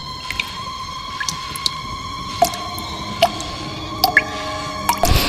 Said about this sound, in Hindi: मुझे अचानक से पानी की टपकने की आवाज आने लगी